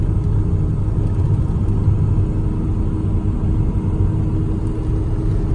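A car climbs Highway 330 toward Running Springs, California, with a steady low road rumble and engine drone that holds evenly throughout, no voices.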